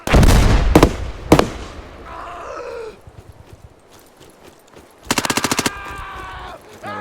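Rifle fire in the shooter game Deadline: a few sharp close shots open, then a rapid automatic burst later, with shouting voices in the gaps between.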